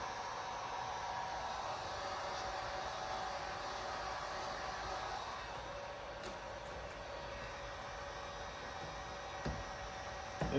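A heat gun warming tail light tint film on a 2020 Toyota Highlander, blowing as a steady whooshing hiss with a faint tonal whine, fairly quiet and unbroken, with a couple of small clicks near the end.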